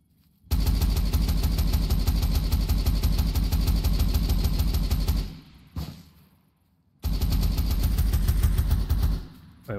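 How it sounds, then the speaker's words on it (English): Sustained automatic gunfire from an enemy in the survival game Territory, a loud rapid stream of shots running for several seconds, breaking off briefly and then resuming in a second long burst. "Where's he firing from?"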